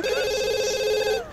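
A telephone rings once in The Sims 2, a short electronic trill that is clear and close, with no talk over it.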